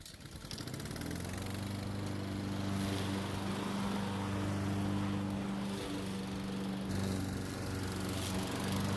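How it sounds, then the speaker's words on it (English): A lawn mower runs steadily while cutting grass on a home lawn, its engine droning loud and close with an even hum that holds throughout, no voices heard. "one of the main reasons why I want to mow right now is to get the grass out of the way of the sprinklers"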